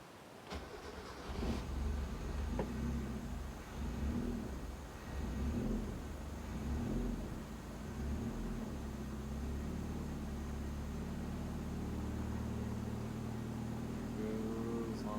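A Mazda Miata with EFI, sitting for several days, cranks and fires for its first startup, then settles into a steady, rough idle as it warms up, engine rumble filling the clip without speech.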